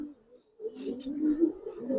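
Domestic pigeons, including a young female, give soft, low cooing calls close by, starting faint and then swelling into a few rolling coos.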